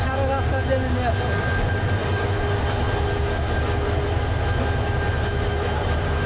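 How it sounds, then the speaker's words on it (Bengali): Jamalpur Express locomotive number 2923 on a night run from Mymensingh to Dhaka, giving a steady, loud rumble with rhythmic low clatter throughout, its tone holding constant. "এটা হচ্ছে আমাদের আজকের ইঞ্জিন লোকোমোটিভ, এটার নাম্বার হচ্ছে 2923"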